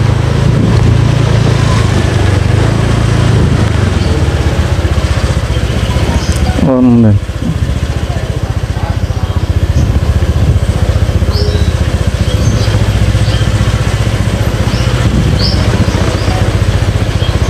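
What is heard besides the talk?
motorcycle engine starting and running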